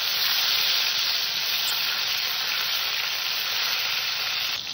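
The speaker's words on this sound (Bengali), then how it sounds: "আমি এখানে একটু কেটে রাখা টমেটো কুচি দিলাম" Chopped tomato hits hot tempering oil for a vegetarian chana dal, giving a loud, continuous close-up sizzle that holds steady throughout with no talking.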